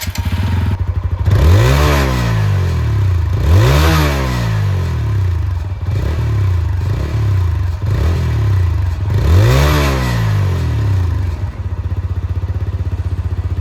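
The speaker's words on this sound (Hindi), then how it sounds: "इस बाइक के इंजन का साउंड सुन रहे कैसा है." A 2025 TVS Apache RTR 160 4V motorcycle with a 160cc engine idles loud and close, then is revved about six times in a row, each rev rising and falling sharply before settling back to idle.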